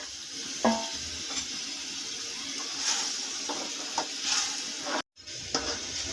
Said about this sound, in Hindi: चावलों में देखिए उबाल आ गया है